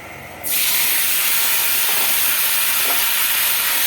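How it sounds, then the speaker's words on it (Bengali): Potatoes hit leftover fish-frying oil with a sudden loud burst of hissing sizzle that holds steady and close for several seconds after a short quiet lead-in. "মাছ ভাজা তেলের মধ্যে আলুটা ভেজে নেবো"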